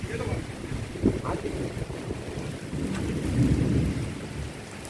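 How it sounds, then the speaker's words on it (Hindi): Steady rain patters throughout, with low rumbling gusts and faint distant thunder-like swells; no clear talking. "यहाँ पर बारिश हो रही है"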